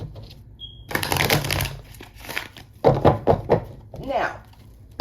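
Tarot cards riffled and shuffled in a few quick bursts, close by, with a brief voice in between.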